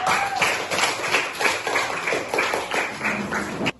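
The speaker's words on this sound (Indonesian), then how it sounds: "berikan tepuk tangan kepada kelompok 3" Elementary schoolchildren in a fourth-grade class applauding a group of classmates, a continuous rippling patter of many small hands clapping for a few seconds, fairly close and steady, then stopping abruptly.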